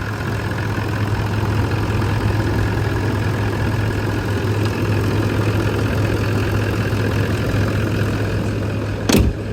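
A Toyota Land Cruiser 200, a damaged low-mileage SUV, idles with a smooth, steady low hum, close and continuous, ending in a brief sharp click.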